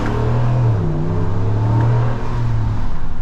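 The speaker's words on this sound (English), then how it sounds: "when it turns off, as you can hear here, it kind of like does a little bit of a backfire shot sound of the truck turning on" A 2022 Ram 1500 Sport GT pickup engine runs steadily, humming at a mid pitch with its tone shifting as it revs slightly. The engine is close and fairly loud, with no speech and no distinct backfire pop standing out.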